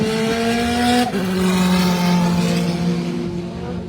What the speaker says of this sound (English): So here comes your race leader once more, Mr. Christian Jeffrey in Mitsubishi.